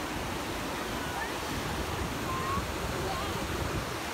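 Ocean waves wash steadily onto a beach in a broad, continuous roar, with wind rumbling across the microphone and faint voices mixed in.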